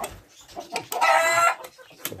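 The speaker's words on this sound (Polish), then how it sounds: "Jest tu kogut" Inside a henhouse, a rooster and hens cluck in short, overlapping calls, swelling into a louder sustained cackle in the middle before settling back to scattered clucks, close and clear.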